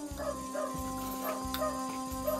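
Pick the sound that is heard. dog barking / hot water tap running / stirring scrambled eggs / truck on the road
dog barking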